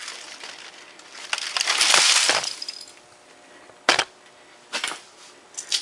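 A Compaq Presario F500 laptop is smashed apart, with a sharp crunching, cracking burst of breaking plastic and glass followed by several separate clinks and knocks at close range.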